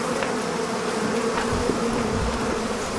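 A swarm of about 250,000 angry bees buzzes in a dense, continuous drone, loud and steady throughout with no voices.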